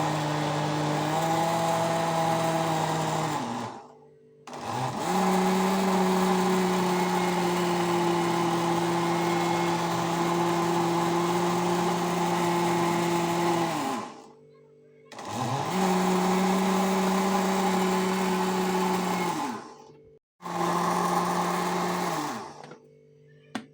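A kitchen blender grinds cooked, unsalted beans with olive oil and spices into Moroccan bissara, whirring loud and steady in several long bursts separated by brief pauses.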